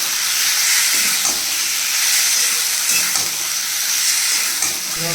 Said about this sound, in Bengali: 5 মিনিটের মতো ফ্রাই করে নেব।